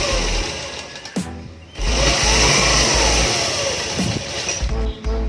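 A sewing machine stitches a patiala salwar in loud, close bursts of rapid mechanical whirring, pausing briefly between runs, with no voices.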